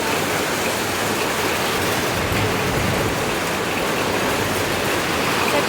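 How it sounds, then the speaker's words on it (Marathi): First monsoon rain pours down steadily in a Konkan village, a loud, dense, unbroken hiss of falling water close by with no pauses. "थंडेला पहिलंच पाऊस इला"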